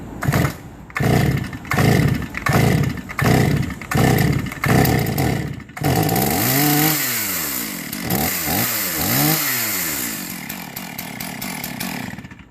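A flooded Stihl MS 461 chainsaw's two-stroke engine is pulled repeatedly with a rhythmic series of rope strokes, then sputters to life and revs up and down loudly.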